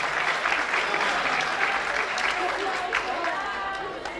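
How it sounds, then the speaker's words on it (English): Steady audience applause for the panelists at a campus forum, many hands clapping together at moderate loudness for several seconds with faint voices underneath, fading slightly at the close. "Give a big round of applause for our panelists for today."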